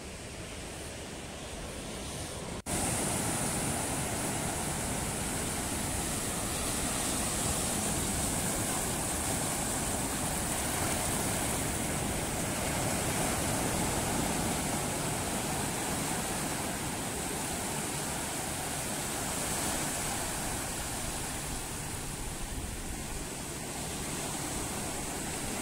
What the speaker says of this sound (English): Just listening to the sound of the sea, first thing in the morning, perfect conditions for a swim.